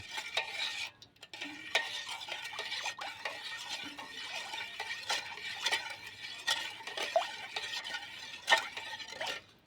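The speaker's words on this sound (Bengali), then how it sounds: "এইবার আমি বিট লবণটা দিয়ে দেব। দিয়ে ভালো করে আরেকটু নেড়ে নেব।" A spoon stirs watermelon juice sharbat in a container after black salt goes in, with quick repeated clinks and taps against the sides in a steady rhythm, close and fairly quiet, no speech.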